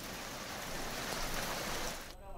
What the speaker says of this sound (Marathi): कल्याण डोंबिवलीत सकाळपासूनच मुसळधार पाऊस पडतोय.